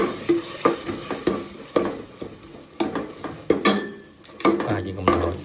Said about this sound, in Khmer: ហើយយើងដាក់ស្ករត្នោតចូលហើយកូរវា